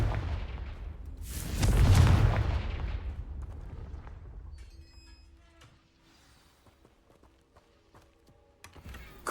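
A Confringo fire spell blast in Hogwarts Legacy: a loud, roaring whoosh swells and booms, then trails off into crackling debris and faint clicks over a quiet ambience.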